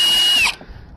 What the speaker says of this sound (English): On another one we don't, so I use just a drill bit.